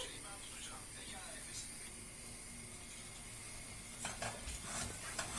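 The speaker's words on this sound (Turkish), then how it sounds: "Şimdi helvamı kavurmaya başladım" Semolina roasting in a pan for Turkish irmik halva, giving a steady soft sizzle with light stirring scrapes that grow louder near the end.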